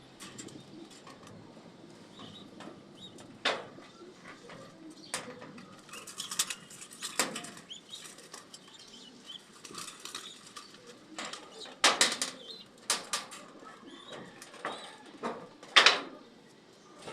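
Pet pigeons of an off-color Louis Chu line cooing softly in a loft, with scattered sharp clicks and fluttering bursts, fairly quiet and without talk.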